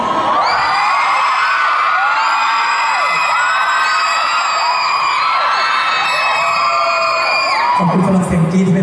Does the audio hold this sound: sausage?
no